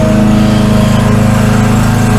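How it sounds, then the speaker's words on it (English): A lawnmower runs nearby with a loud, steady buzzing drone and a rapid pulsing rhythm, continuous throughout and with no voices over it. "And I got a lawnmower behind me."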